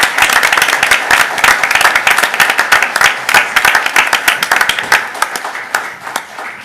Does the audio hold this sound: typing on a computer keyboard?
no